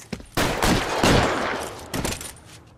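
Gunfire in LA Noire, a loud, close volley of overlapping shots that swells, dips briefly, and returns with another burst before fading.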